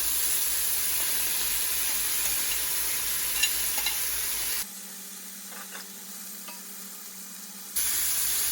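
Onions go into a pan beside searing chicken for a Mediterranean-style grilled dish, a strong close sizzle that cuts to a much quieter stretch for a few seconds before the loud frying returns, with no voices.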